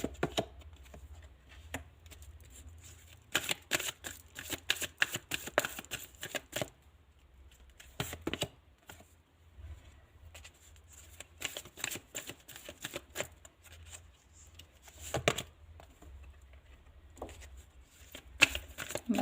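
Tarot cards are gathered and shuffled close by, giving repeated quick riffling bursts separated by quiet pauses, soft but distinct.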